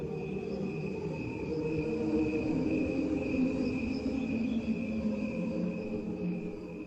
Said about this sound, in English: The recording is overlaid by a second one of crickets played at full speed.